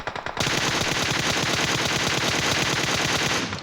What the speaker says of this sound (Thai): นักแข่งของเรายิงศัตรูนะครับ